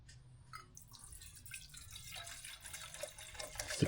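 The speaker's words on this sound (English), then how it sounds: "So let me get this water in here right now." Water is poured into the pot of an Odoland camping stove: a quiet trickling splash that grows steadily fuller and louder over a few seconds, close by, with no talking.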